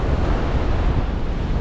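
Storm surge waves in southwest Florida during Hurricane Helene, a dense, continuous roar of surf and wind close to the microphone, loud and unbroken.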